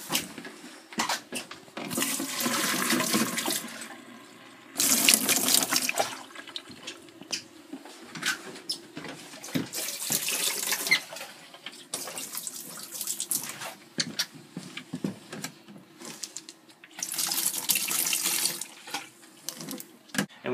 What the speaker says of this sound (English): we'll take what antifreeze we have left and we'll pour this down the P-traps just a little bit